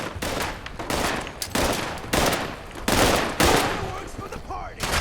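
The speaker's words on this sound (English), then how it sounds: "Fireworks for the party!" Fireworks going off in the video game Fallout 76, a dense run of loud crackling bursts and rapid popping volleys that repeat in waves for several seconds, with brief lulls between the salvos.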